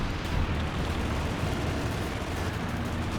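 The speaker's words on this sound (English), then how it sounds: "airstrike coming on in" Airstrike explosions in the World War II strategy game Company of Heroes 2, heard as a dense, continuous roar of blasts and rumbling booms at a steady loud level with no talk.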